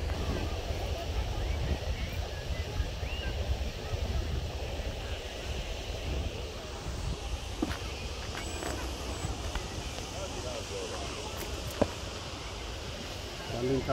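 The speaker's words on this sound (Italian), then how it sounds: "C'è troppo vento però." Strong wind gusts at the water's edge during a test run of a radio-controlled hydrofoil, buffeting the microphone with a constant rough roar, while some talk is heard faintly.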